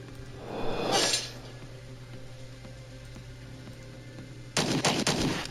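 Video game gunfire from a Flash Fury attack in Star Traders Frontiers: a whooshing burst is followed by a quieter pause, then a rapid, loud volley of shots at the end, over a steady background hum.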